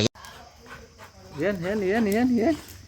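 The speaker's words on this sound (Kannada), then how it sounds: "ನಮ್ಮ ಮನೆ ಹಿಂದ್ಗಡೆ ನಾಯಿ ಇದು" A dog from behind a house gives a drawn-out whining, wavering whimper close by, following a quieter stretch with distant murmuring.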